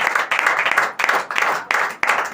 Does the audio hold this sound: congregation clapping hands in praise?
yes